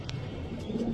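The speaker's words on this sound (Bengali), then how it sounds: "চলেন কবুতরগুলো দেখেন" A pigeon gives a brief, low, soft coo at a pigeon farm in Mirpur, heard close over faint background noise.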